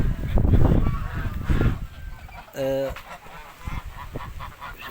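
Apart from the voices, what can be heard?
geese honking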